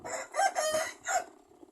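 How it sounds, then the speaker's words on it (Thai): A rooster crows nearby in a single clear cock-a-doodle-doo, rising then tailing off, heard alone against quiet surroundings. "ไก่ก็ขันจังเลย"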